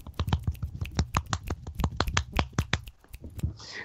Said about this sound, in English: See, he snaps and I clap because I can't snap my fingers